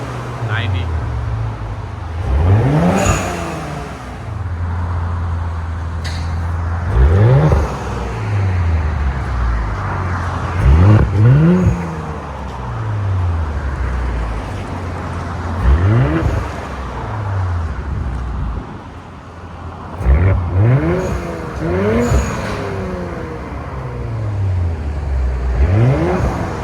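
A 2021 Audi S4 with a 3.0L turbo V6 and X-pipe exhaust revs repeatedly, each blip rising and falling over a burbling idle, loud and close, with people talking in between.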